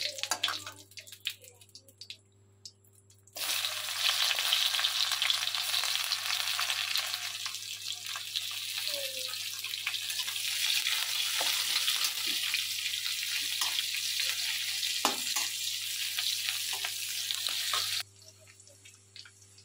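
Onions hit hot oil with a pinch of asafoetida, bursting into a loud, steady frying sizzle that runs for about fifteen seconds between quieter stretches of pan noise at the start and end.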